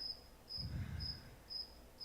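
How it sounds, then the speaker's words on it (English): A cricket chirps in the background, regular faint trills repeating about twice a second under a low indistinct rumble, with no talking. "That's got the cricket in the background here."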